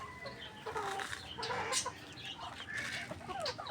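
Chickens cluck in a farmyard pen, a busy overlapping chatter of several birds close by, with scattered calls running throughout and no talk.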